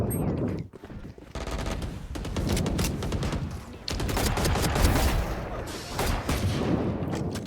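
Rapid bursts of gunfire from a competitive shooter game erupt in dense fusillades, loud and sustained with brief gaps, sounding close and relentless throughout.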